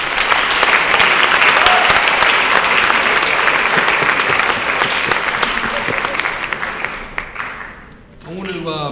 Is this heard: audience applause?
yes